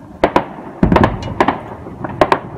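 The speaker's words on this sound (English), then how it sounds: "Gunfire had erupted in South Sudan's capital, Juba" Sharp cracking bursts of gunfire come in quick pairs and clusters during fighting in Juba, South Sudan, several volleys across a few seconds, loud and fairly close with no talking.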